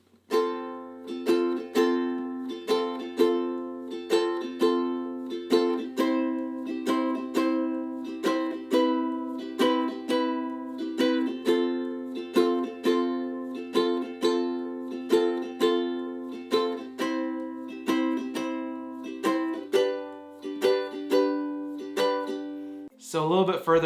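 A ukulele strums the chord section of a song in a steady, even rhythm of repeated down-up strokes, close and clear, played alone for about twenty seconds before stopping.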